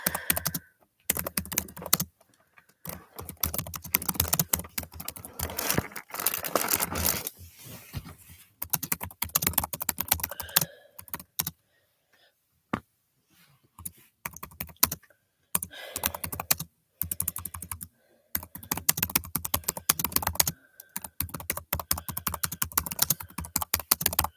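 Someone types on a computer keyboard in irregular bursts of crisp, close key clicks, broken by short silences and a longer pause midway.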